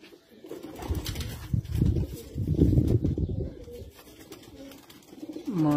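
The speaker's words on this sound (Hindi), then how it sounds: "टेडी कबूतर" A Teddy flying pigeon coos close by in low, throaty rolling bursts, with a brief fluttery rise of sound near the end.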